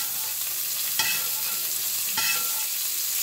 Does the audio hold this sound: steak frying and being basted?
yes